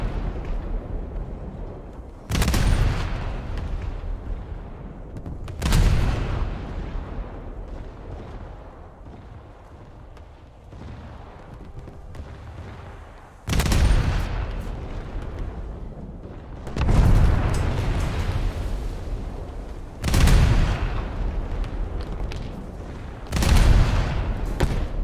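Ships' naval guns fire in a video game, booming out as six or seven heavy, loud blasts at irregular intervals, each one trailing off into a rumbling decay before the next shot.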